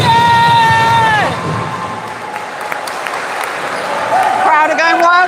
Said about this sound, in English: Crowd are going wild for Gabs as well.